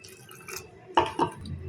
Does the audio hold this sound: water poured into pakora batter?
yes